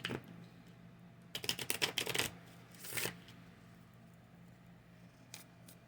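Spirit animal cards being shuffled by hand: a quick run of crisp riffling flutters, then a softer shuffle and a faint lone card snap near the end, close and otherwise quiet.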